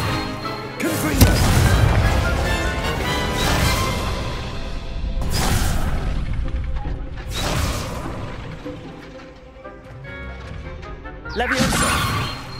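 Confringo fire spell from Hogwarts Legacy bursting in several loud blasts and crashes with whooshing effects, spread over a busy combat scene with voices talking between the impacts.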